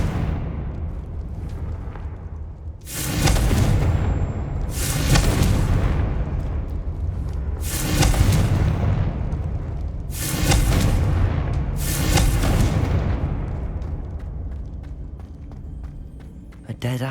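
Confringo spell blasts in the video game Hogwarts Legacy, five loud booming explosions spaced about two seconds apart, each with a rumbling tail, heavy and close, over a low game ambience.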